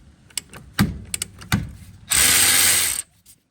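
A ratchet loosens a 12mm caliper bolt during rear brake work on a 2000-2006 Chevy Tahoe: a few separate clicks come first, then a loud, fast continuous ratcheting burst lasting about a second. The sound is close and has no talk over it.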